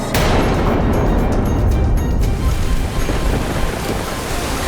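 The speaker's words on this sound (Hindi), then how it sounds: "प्रलयकारी लहरें और अधिक भयावह हो रही थी" Terrifying storm waves of a great flood crash around a boat, a loud, continuous roar of surf and wind that swells and churns without pause.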